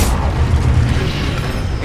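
An Incendio fire spell cast in Hogwarts Legacy, a loud, dense roaring whoosh of flame with a deep rumbling boom that holds steady throughout.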